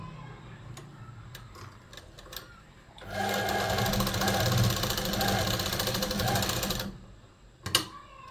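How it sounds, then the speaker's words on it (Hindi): A sewing machine runs a continuous stitching line along the edge of a gents' kurta, whirring loudly and evenly for about four seconds after some scattered ticks, then stopping with a final clack. "उसके बाद ये किनारे किनारे आपको एक सिलाई लगा लेना है।"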